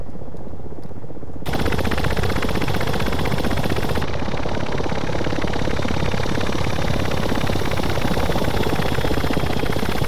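A Ka-50 Black Shark attack helicopter in the DCS flight simulator runs steadily after an abrupt start, a loud, dense rotor and turbine drone carrying a heavy load at low speed, with no talk.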